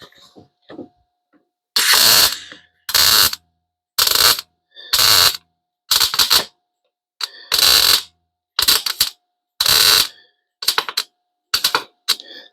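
Welding a patch into a weak floor, in a dozen short, loud crackling bursts of about half a second each, separated by brief pauses in a steady stop-start rhythm.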